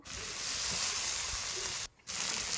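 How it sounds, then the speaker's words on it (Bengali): Onions sizzle steadily in a pan with chopped tomato, ginger-garlic paste, salt, turmeric and chilli powder, a close, bright frying hiss that drops out briefly before resuming. "পেঁয়াজটা ভালো করে ভেজে নেবো।"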